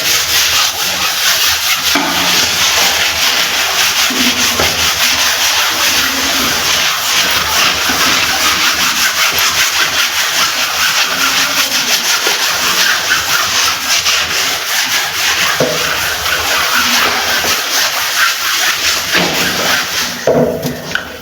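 A bathroom's floor tiles are being scrubbed, giving a loud, steady rasping rub that runs without pause for the whole stretch, with only slight swells in the strokes.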